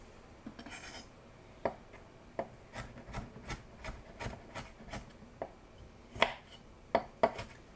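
A knife chops ginger on a cutting board, its blade rocking in a quick run of crisp, irregular taps and scrapes, close and clear with no talking.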